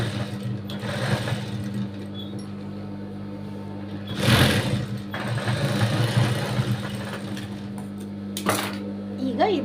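A sewing machine runs steadily, stitching all the way round the back of a garment, its motor humming with rhythmic needle clatter and brief bursts of speed, while someone talks over it.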